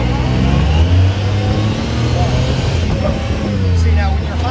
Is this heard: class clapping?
no